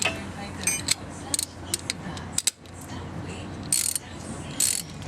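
Socket wrench working a large nut off a rear brake caliper on a Buick, Cadillac or Olds, heard as bursts of quick metallic ratchet clicks with pauses between, close and fairly loud, with faint background noise.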